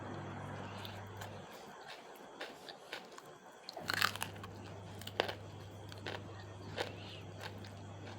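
Someone eats rice with a grilled mackerel chili dip in a rustic home setting. Soft crunchy bites and chewing sound up close over a steady low hum, with quiet pauses between mouthfuls.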